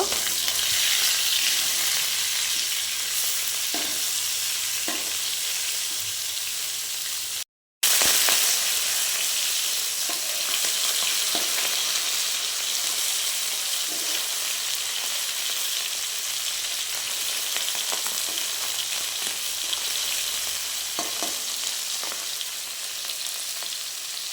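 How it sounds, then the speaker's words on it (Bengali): Tengra fish fry in oil in a wok with a loud, continuous sizzle and occasional crackles and stirring clinks, broken once by a brief moment of silence. "মাছটা আমি অলরেডি কড়াই দিয়ে দিয়েছি মাছটা ভাজা হচ্ছে"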